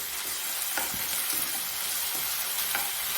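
Ginger garlic paste frying with browned onions in a pan for cauliflower soya curry, a loud continuous hiss with a few scraping stirs, close up and alone.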